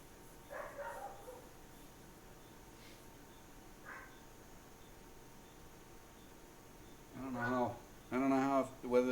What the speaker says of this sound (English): I don't know how whether this dog barking is showing up in the video or not